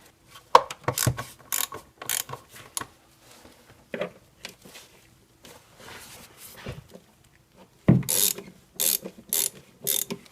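Ratchet loosening 10 mm bolts on a Toyota 2GR-FE V6 engine during rear-bank valve cover gasket work, giving bursts of quick metallic clicking strokes with pauses between, close and fairly clear.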